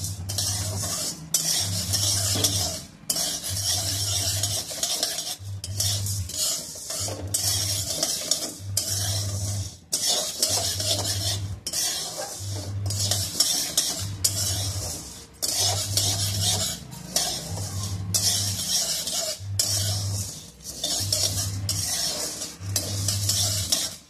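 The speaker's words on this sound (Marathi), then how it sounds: "तर हे आपल्याला व्यवस्थित थोडंसं लालसर असं भाजून घ्यायचं आहे" Thalipeeth bhajani grains dry-roasting in a pan, stirred with a utensil that scrapes the metal in regular strokes about once a second, over a light continuous sizzle, with no one speaking.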